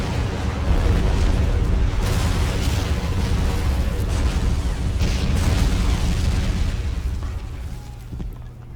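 Rocket barrage in the WWII strategy game Men of War, Eastern Front battle: a dense, continuous roar of overlapping explosions and booming bursts, loud and sustained for several seconds before easing slightly at the end.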